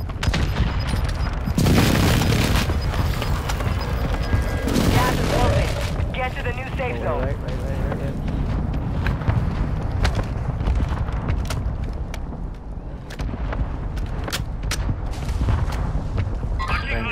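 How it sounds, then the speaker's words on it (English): Heavy airstrike explosions and gunfire in Call of Duty: Modern Warfare II Warzone, a dense barrage of loud booms and rumbling blasts layered with rapid shots, with players talking over the chaos. "Hostile airstrike near your location."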